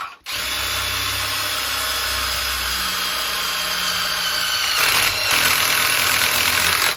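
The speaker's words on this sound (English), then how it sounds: "So we're going to use this drill bit here. If we go in my drill, there you go." A handheld electric drill whirs steadily as it bores a hole while installing an off-grid power system, a close, loud motor whine that shifts pitch partway through as the bit bites, with no talk.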